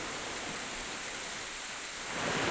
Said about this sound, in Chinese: 你看那瀑布下来